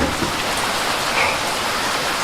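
Heavy rain drumming on a bucket worn over the head as an umbrella at a cave house, a loud, continuous close-up hiss and patter with no pauses and no talking.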